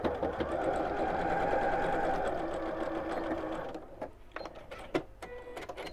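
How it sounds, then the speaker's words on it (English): A sewing machine stitches folded fabric edges together, running in one loud, continuous hum for nearly four seconds before stopping. A few quieter clicks and handling noises follow. "Fold together and sew."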